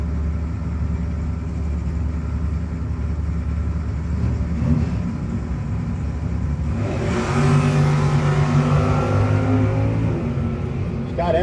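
Drag race cars at Maple Grove during a no-box 660 shootout, engines roaring louder as the cars pass down the strip, under a track announcer's commentary.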